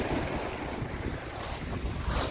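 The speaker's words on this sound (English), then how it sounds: "windy, cold day like this" Steady wind roars across a cold northern coast, a dense continuous rush with buffeting gusts against the microphone and a constant low rumble, close and unbroken with no talk.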